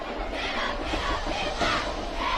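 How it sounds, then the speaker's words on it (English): A jam-packed crowd at a Class 6A Mississippi high school football game, Southaven hosting Whitehaven, roars steadily from the stands, a dense, continuous wash of cheering voices with no break. "Great crowd on hand."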